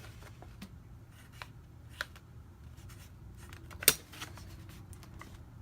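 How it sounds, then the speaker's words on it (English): Pen writing on the back of a small tag, heard as faint, intermittent scratchy strokes with a few soft ticks and one sharper click, close and quiet with no talking. "And I'm just going to write on the back."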